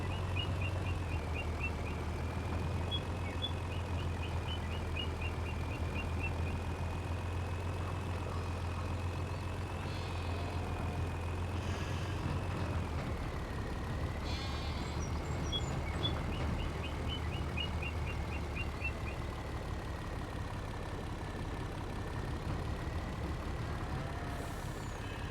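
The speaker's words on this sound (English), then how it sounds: "How did he even get the truck to our entrance?" A truck backs up slowly with steady reversing beeps over a low idling engine rumble, the beeping fading out midway and returning later, with a brief air-brake hiss between.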